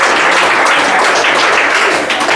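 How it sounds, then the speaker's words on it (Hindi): A classroom of students applauds for a classmate named Preeti, with dense, steady clapping that stays loud and close for the whole stretch, without any pause. "प्रीति के लिए भी ताली बजाइए भाई"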